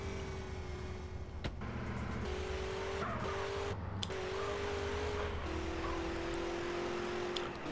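Engine of a car driven in Grand Theft Auto: San Andreas drones steadily at close range, with tire skids scraping over it and no talk.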